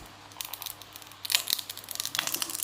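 Adhesive strips under a Vivo Y21 phone battery being pulled off, giving close, crisp crackling and tearing that grows louder and more continuous partway through.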